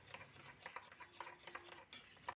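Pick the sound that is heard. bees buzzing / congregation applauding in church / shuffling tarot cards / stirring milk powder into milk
stirring milk powder into milk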